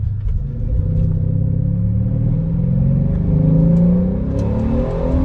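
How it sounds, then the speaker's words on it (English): A Mercedes SL550 (R231) fitted with aFe Power air filters revs and accelerates hard, its exhaust rumbling loud and close as the turbo spools up, rising and swelling over a few seconds with no talking. "the exhaust is more pronounced, and the turbo spool"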